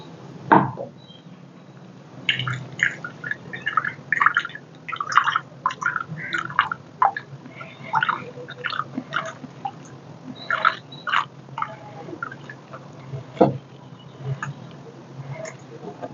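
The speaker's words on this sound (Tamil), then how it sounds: "இப்போ இந்த கப்பில் வடிகட்டி எடுக்க போகிறோம்." Banana leaf juice being strained into a cup: irregular close drips and small liquid taps and clicks come one after another in an uneven pattern, with a quiet background.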